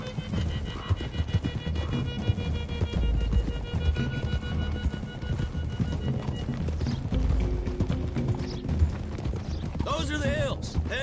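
Several horses gallop in Red Dead Redemption 2, with steady hoofbeats and clip-clop thudding across the ground, occasional whinnies and riders' voices over the top of the mix.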